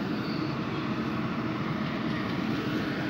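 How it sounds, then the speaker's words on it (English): A train idles at a Stockholm railway station with a steady, broad rumble and hiss that holds at an even loudness throughout, close and without talk. "This was the last stop of this train."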